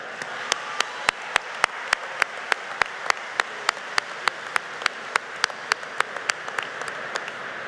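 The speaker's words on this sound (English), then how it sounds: "Please join me in a round of applause for our host," Audience at a high school graduation ceremony held in a church, a soft steady wash of applause with a sharp, regular knock or clap repeating about every third of a second on top.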